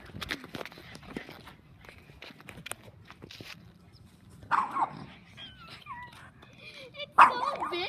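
An agitated dog gives short sharp barks and yips, mixed with scuffling footsteps and whimpering, while people talk nearby.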